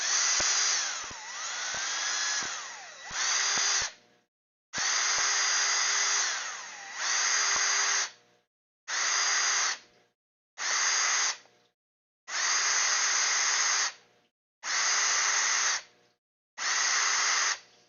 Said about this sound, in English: let me try and clean some of the burrs out of these.